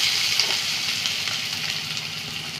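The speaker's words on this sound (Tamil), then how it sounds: "வெங்காயம் வசங்கிட்டே இருக்கட்டும்" Chopped onions frying in a pan for paneer tikka masala gravy, a loud, steady, close sizzle with faint crackle throughout and no voices.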